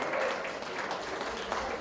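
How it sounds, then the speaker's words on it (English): An audience at a community housing forum applauds, a brief, diffuse patter of many hands heard from a distance in a hall, steady and moderately quiet. "Give him a big round of applause."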